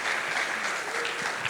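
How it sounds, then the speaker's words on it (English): Warm, steady applause from a conference audience at a macroeconomic outlook event, a dense, even patter of many hands clapping for a short stretch. "some warm applause to appreciate what he has done"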